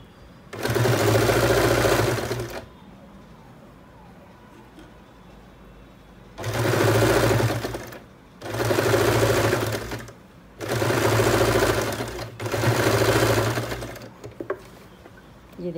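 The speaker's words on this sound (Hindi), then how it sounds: "इसी कॉर्नर पर इसको सिल देंगे यहाँ" Sewing machine stitching leftover fabric pieces together in four loud bursts of rapid whirring, each lasting a couple of seconds, separated by quiet pauses.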